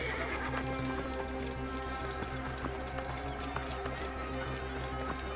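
A horse neighs and gallops in the Egyptian setting of Assassin's Creed Origins, with steady hoofbeats and a whinny layered over a constant, fairly loud game ambience and music.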